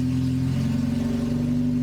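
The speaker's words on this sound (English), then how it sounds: "I had to start the car again to get it up onto the piece of wood" A turbocharged Honda K-series car engine runs steadily and close by, a low droning hum with a faint rev, continuous throughout with no voices.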